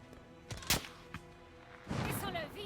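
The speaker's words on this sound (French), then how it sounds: "Les coups de feu venaient de l'autoroute!" Gunfire in the video game Call of Duty Modern Warfare, a few scattered sharp shots followed by a denser burst, fairly faint and mixed with background game sounds.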